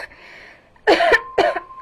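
A person coughs twice, two close, harsh bursts after a quiet murmured lead-in, the coughs loud and near with a brief gap between them.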